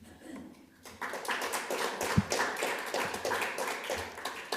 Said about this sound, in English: I hope you can hear the claps